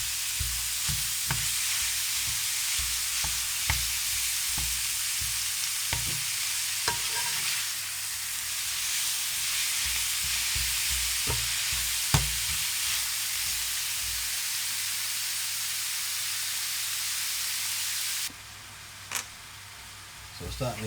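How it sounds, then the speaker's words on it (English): Ground beef browning in a frying pan for a beef and Guinness pie, a steady loud sizzle with repeated scraping stirs throughout, a voice speaking over it, and the sizzle dropping off near the end. "I'm going to cook this for about 5 minutes till that beef's nice and brown"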